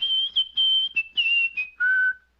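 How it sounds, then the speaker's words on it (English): A woman's melodic whistling in a Rocky and Bullwinkle cartoon runs in several sustained bright phrases, each held tone broken by short gaps, ending on a lower drawn-out note, clear and alone without speech. "Hey, you sure whistled pretty"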